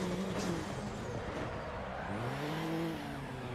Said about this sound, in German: Der Audi hier, der hört sich übrigens auch im Begrenzer sehr, sehr geil an.